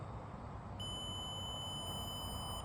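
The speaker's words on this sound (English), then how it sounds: "This long beep means that this remote, this keypad is reset to factory settings" A Mastercraft garage door opener keypad, reset to factory settings, gives one long, steady electronic beep lasting about two seconds over faint background hiss, with no talking.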